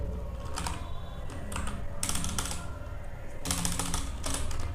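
Keystrokes rattle on a computer keyboard while a user types into a PHP form setup, coming in dense bursts with short pauses between them, close and steady, with no talk over them.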